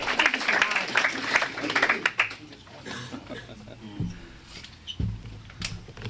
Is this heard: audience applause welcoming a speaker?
yes